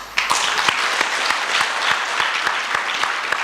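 A conference audience at KICD Nairobi claps steadily for HKSI, a dense roomful of hands with sharp individual claps standing out, fairly close and continuous.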